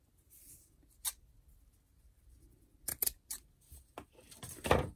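A few sharp snipping clicks of scissors cutting paper, close by, scattered among soft rustling and handling noises.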